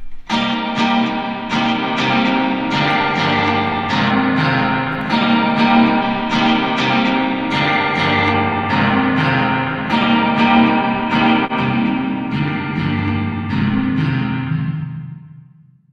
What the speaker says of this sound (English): Now the reason I like using this is predominantly for the spring reverb.